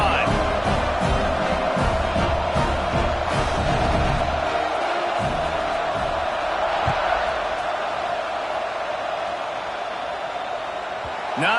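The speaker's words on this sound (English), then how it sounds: "this crowd is feeling themselves after that last drive" Stadium crowd in a college football video game, a broad roar of cheering that swells early and then settles under steady commentary talk.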